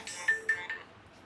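A phone rings faintly in three short electronic trills close together, the last tailing off, in a quiet room at a studio monitor repair bench.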